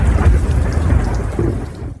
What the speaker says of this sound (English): the storm worsens.